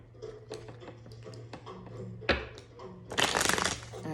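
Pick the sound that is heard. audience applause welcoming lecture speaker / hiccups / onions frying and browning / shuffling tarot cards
shuffling tarot cards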